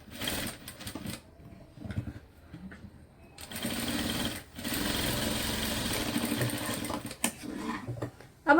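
A sewing machine stitches across blouse tucks in several bursts, a fast close mechanical whirring that stops and restarts, with short quiet pauses between runs.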